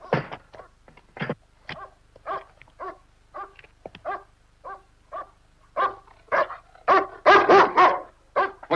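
A dog barks in a 1972 horror film, a series of sharp single barks spaced irregularly, then a quicker cluster of louder barks near the end, fairly close with quiet gaps between.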